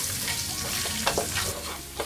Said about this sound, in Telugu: ఈ అల్లం వెల్లుల్లి పేస్ట్ పచ్చివాసన లేకుండా బాగా వేయించుకుందాం.